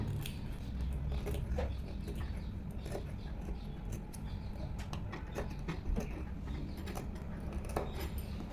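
Scissors snipping fabric in small cuts around a round neckline of a kurti, several quiet crisp clicks scattered over a low steady background hum.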